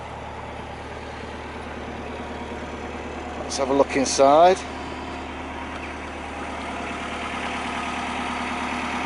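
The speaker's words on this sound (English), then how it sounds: "I've just started the engine for the first time." A boat engine, just started for the first time, idles with a steady low rumble throughout, while someone speaks briefly over it partway through.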